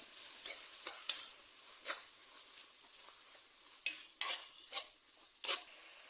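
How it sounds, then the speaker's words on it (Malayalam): Garlic cloves and curry leaves sautéing in a pan for a Kerala-style fish mappas, with a soft, steady sizzle broken by several sharp scrapes and taps of a spoon against the pan. "ഒരു നാലഞ്ച് വെളുത്തുള്ളി നടുവേ കയറിയത് ഒരു രണ്ട് കതിർപ്പ് കറിവേപ്പിലും കിട്ടരുത് ഇതൊന്ന് വഴറ്റിയെടുക്കാം"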